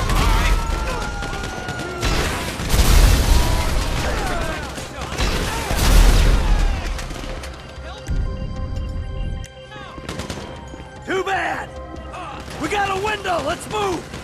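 Bursts of rapid gunfire and explosions from a Grand Theft Auto V heist battle, loud and chaotic, with shouted voices over the shooting.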